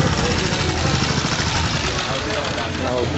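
An old 1956 army diesel motorbike engine running steadily nearby at a rally, a continuous rough mid-pitched chugging drone with no breaks.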